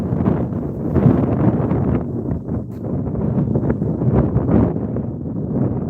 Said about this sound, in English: I know it's a little windy right now.